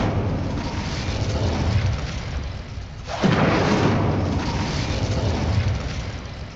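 Incendio fire spell cast in the game Hogwarts Legacy: a low rumbling bed is broken by one sudden fiery burst midway, followed by a sustained roaring rush of flame.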